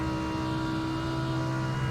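A race car engine at full throttle on the Nürburgring during 24-hour race practice, a steady droning tone held at high revs, loud and unbroken from inside the car.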